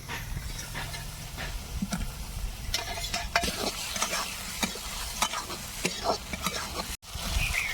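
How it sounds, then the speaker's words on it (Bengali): Fried okra stirred into poppy seed paste in a pan, with a continuous sizzle of frying under repeated scraping strokes of a spatula, close and fairly loud, with a brief cut near the end. "এবার দিয়ে দেবো ভেজে রাখা ভেন্ডি"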